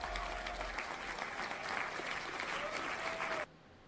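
Steady crowd applause filling the space at a constant level, cutting off abruptly near the end and leaving quieter room tone.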